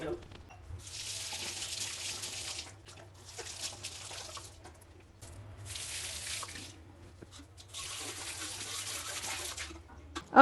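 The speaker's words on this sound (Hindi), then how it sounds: "अब इसको आप अच्छे से पानी से धो लें।" Tap water runs into a sink while baby bottle and steriliser parts are rinsed, a hissing stream that starts and stops in bursts with quieter gaps of handling and dripping between.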